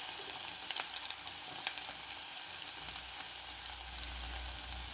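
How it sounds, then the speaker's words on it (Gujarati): Garlic frying in oil on a medium gas flame for a lentil curry, a faint, even sizzle with a few light stirring clicks, no voices. "હવે આ બધું આપણે લસણ એડ કરી દઈશું."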